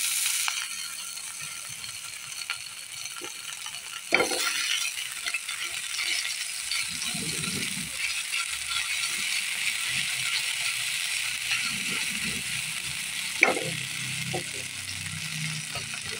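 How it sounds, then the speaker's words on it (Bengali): Ajwain seeds sizzle in hot oil with a steady bright hiss that runs throughout, broken by a couple of sharper utensil knocks and soft clatter. "তেল গরম হয়ে গেছে, আমি এখানে জোয়ান ফোড়ন দিয়ে দিয়েছি।"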